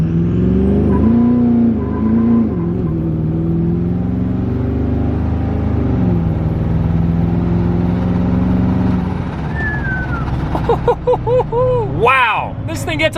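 A truck accelerating hard with tires spinning, its engine droning loud and close with rising pitch, gear changes and a whining tire or drivetrain squeal near the end, with voices talking over it.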